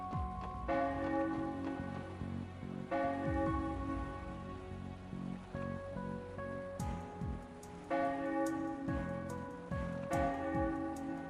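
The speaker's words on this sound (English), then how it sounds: "that bell is fucking ominous" An ominous bell tolls in the video game Trails to Azure, several deep, ringing strikes with long resonant decays over a soft, rain-like background wash.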